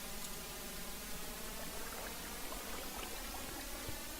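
Flowing water in the video game Minecraft, a steady, quiet, hissing rush of a stream that continues evenly throughout with no voices.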